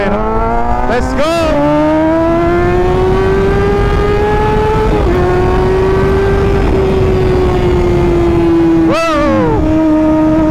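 Motorcycle engine revving on a road ride, loud and close, holding a steady drone with two sharp rev swoops near the start and end, plus wind rush.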